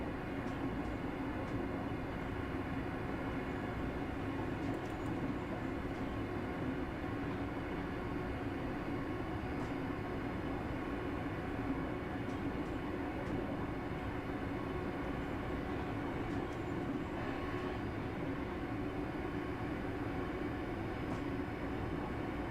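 A train in Train Sim Classic on a late-night Glasgow to Dunblane run gives a steady, continuous rumble and rolling hum with faint rhythmic clicks, unbroken and without voices.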